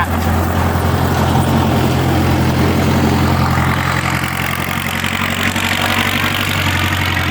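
Kubota L5018 tractor engine running steadily while plowing straw into still-hard field soil, a continuous mid-low drone with a constant tone and no voices, close and loud throughout.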